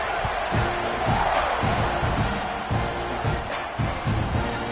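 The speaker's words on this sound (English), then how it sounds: "You think this crowd's going to get loud when their defense comes on the field?" A large football stadium crowd roars in a sustained, swelling din with rhythmic stomping or clapping pulses, loud and distant-sounding, as the home defense takes the field.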